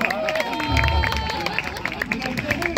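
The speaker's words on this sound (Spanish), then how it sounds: "Un aplauso." A festival crowd at the Fiesta de la Chilenidad in La Florida claps for a cueca band, scattered, fairly quiet claps mixed with chatter and people talking.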